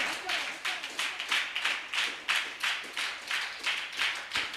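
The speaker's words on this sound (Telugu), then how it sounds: "చప్పట్లు కొడతాం గట్టిగా" A church congregation claps loudly together in a regular rhythm, about a dozen sharp, unison claps in quick succession, close and energetic, with no talking over them.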